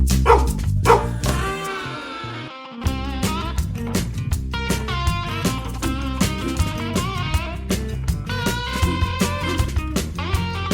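A dog barks and yips repeatedly at close range, loud, rapid and excited bursts that continue almost without pause, mixed with whimpering notes.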